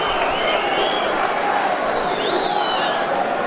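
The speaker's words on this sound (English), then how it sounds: "Crowd respond to that as well, they saw it." An arena crowd at a heavyweight boxing match reacts to a punch landed after the bell, a dense, sustained roar of voices and cheering under a commentator's voice.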